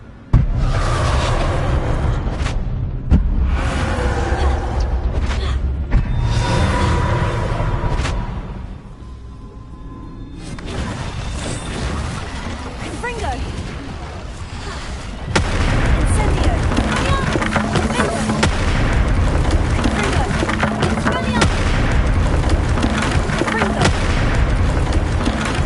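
Hogwarts Legacy fire spell Confringo blasts in rapid succession, loud booming explosions with crackling bursts, a brief lull midway, then a sustained rumbling roar of fire and impacts.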